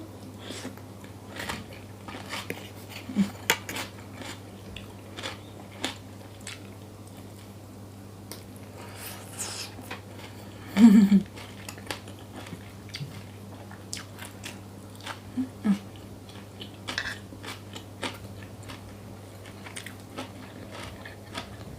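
Someone eating pounded bean salad with sticky rice and sun-dried grilled fish, with close, quiet crunching bites and chewing scattered through a hushed room and one louder crunch midway.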